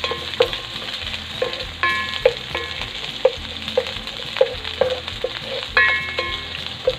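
Garlic and ginger sauté in hot oil, a continuous sizzle broken by a regular run of sharp scraping knocks as a utensil stirs the pan, close and fairly loud.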